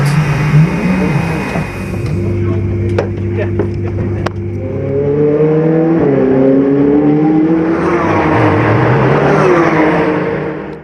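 Race cars at Dijon-Prenois entering the pits, engines droning steadily near the microphone with rising and falling revs as they slow and pull in, swelling louder toward the end.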